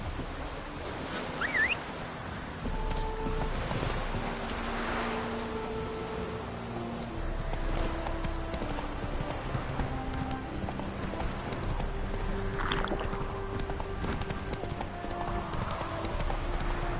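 Roach, a horse in The Witcher 3, moves with steady rhythmic hoof clip-clops that run through the whole stretch over faint ambient background, with a short whinny and a few distant bird and fowl calls.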